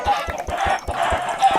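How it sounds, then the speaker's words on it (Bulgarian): Chickens in Minecraft give off short, repeated clucks in quick bursts. The sound is close and fairly loud. "Кокошки!"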